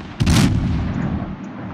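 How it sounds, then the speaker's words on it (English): A Tier 8 cruiser, New Orleans, firing high-explosive shells in World of Warships: one sharp, heavy cannon report followed by a lingering low rumble that fades slowly under the ambient sea noise. "Firing some HE, hoping maybe I can start a fire on him"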